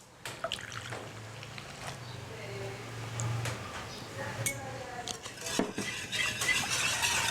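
Durian pancake batter made with coconut milk is mixed in a bowl, with a spoon clinking and scraping in uneven strokes that grow busier toward the end, near and fairly quiet.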